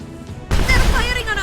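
A sudden heavy boom from ship cannons in Airship: Kingdoms Adrift, erupting after a quiet moment and ringing out loudly with a rumbling tail.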